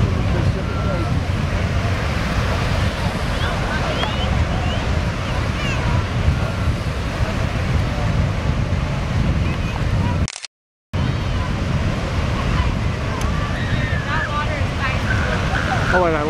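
Pacific Ocean surf breaks on a beach in a steady, loud, broadband roar buffeted by wind, with a brief dropout partway through.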